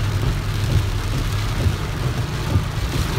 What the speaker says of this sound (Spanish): Una tormenta fue lo que llegó aquí.